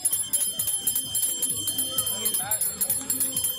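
Bells ring at the finish line of a 10K footrace, bright repeated strikes clanging steadily while a commentator talks over them.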